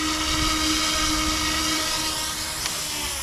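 Eachine E200 Black Hawk RC helicopter coming in to land, its small electric rotor giving a steady high-pitched whine close by that wavers and drops slightly near the end, with no talking.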